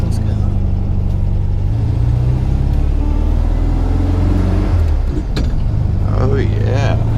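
A 1973 VW Super Beetle with a freshly rebuilt engine drives along, its steady air-cooled engine droning loudly throughout with some shifts in pitch as it pulls away, and road noise underneath.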